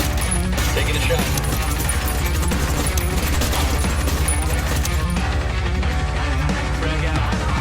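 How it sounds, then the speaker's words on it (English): Rapid gunfire from the Ghost Recon Wildlands video game, a dense sustained barrage of shots and crashes with a game soundtrack underneath, loud and continuous throughout. "Taking a shot."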